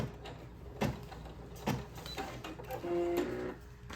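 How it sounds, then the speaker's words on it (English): Embroidery machine stitching a placement outline on a baby onesie, close and mechanical, with rhythmic needle thumps and a whirring motor that briefly rises in pitch near the end. "you have to watch it to ensure that it's stitching correctly."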